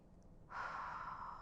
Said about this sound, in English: Resting position and purse lip breathing.